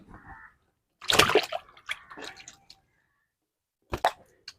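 Water splashes as a net full of live fish is tied up in the water to keep the catch alive: a loud burst of splashing, a few quieter sloshes, then one more sharp splash, with pauses between.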